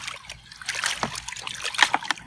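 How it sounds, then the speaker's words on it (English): Water splashes and sloshes in a Finding Dory Whirlin' Waves water table toy, with light, quick splatters and trickles close by and brief voices in the background. "I don't like how it splashes really."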